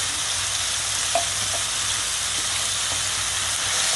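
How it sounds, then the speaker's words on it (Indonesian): Blended chilies and shallots frying in hot oil, a dense continuous sizzle and hiss with a few soft stirring clicks, close and alone without speech. "Dan kita goreng juga lombok dan bawangnya tadi setelah di blender itu."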